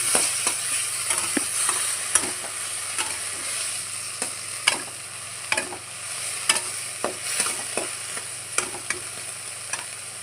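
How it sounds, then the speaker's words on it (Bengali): Fish frying in a pan in a home kitchen, a continuous close sizzle punctuated by regular scraping stirs and clacks of a spatula. "চলো এখানে মাছগুলো ভেজে নিই।"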